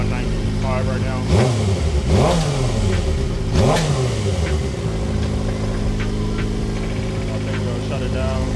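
A Suzuki GSXR 600 motorcycle engine idles at operating temperature, loud and close, with three quick throttle blips rising and falling early on before it settles back to a steady idle.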